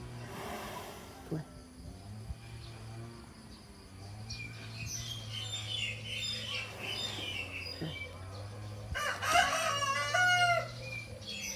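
A rooster crows once near the end, fairly close and clear, after a stretch of low steady humming background with a voice heard talking.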